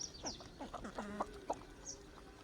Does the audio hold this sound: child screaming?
no